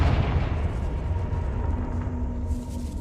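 A Confringo fire spell blast explodes in the video game Hogwarts Legacy, giving a short, deep, booming rumble that fades over a few seconds.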